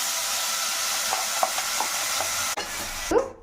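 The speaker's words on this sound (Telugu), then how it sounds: "లో ఫ్లేమ్లో పెట్టుకొని కలుపుతూ ఉండాలి" Egg biryani gravy stirred in a pan over a low flame, with soft sizzling, faint scrapes and light clinks of a spoon, then one sharper knock near the end.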